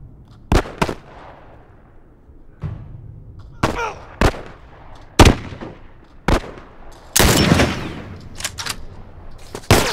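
Gunfire in The Last of Us, a string of loud, close single shots spaced irregularly across the stretch, with a longer burst of crackle and rumble near the end, no talking.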